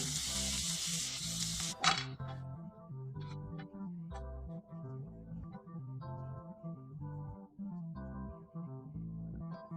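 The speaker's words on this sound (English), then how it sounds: "Once the oil and butter are hot, I add a spoon of gram flour and we'll roast this." Gram flour roasts in hot oil and butter in a pan, giving a steady close sizzle with occasional stirring scrapes, under tonal background music throughout.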